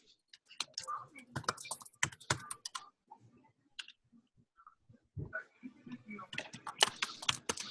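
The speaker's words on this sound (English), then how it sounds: "I type in their screen name." Typing on a computer keyboard in short bursts of crisp, close key clicks, with a quiet gap in the middle before the typing picks up again, fairly faint overall.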